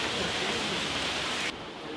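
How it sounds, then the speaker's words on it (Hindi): Heavy rain falls outside in a dense, steady hiss that stays even and loud, then abruptly drops to a softer level partway through. "आज हमने इंडोर रखा है तो बाहर बारिश हो रही है।"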